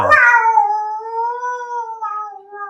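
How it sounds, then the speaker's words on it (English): A cat gives a long, drawn-out meow that starts with a brief rough burst and then holds a steady, wavering tone for over two seconds, close and fairly loud with no talking over it. "That's a good meow."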